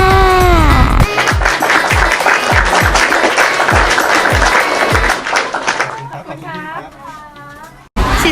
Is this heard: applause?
yes